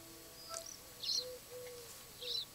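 House sparrow at a feeder in Alba: A Wildlife Adventure, giving three short, faint chirps spaced about half a second apart over soft ambient background sounds.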